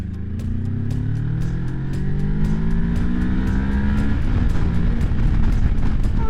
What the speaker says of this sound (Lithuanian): galime pabandyti motociklo akceleraciją